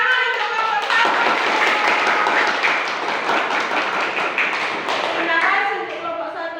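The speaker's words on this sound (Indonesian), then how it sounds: "beri tepuk tangan untuk kelompok 1" A classroom of children claps for a student group, a dense, steady patter of many hands close by that continues for several seconds.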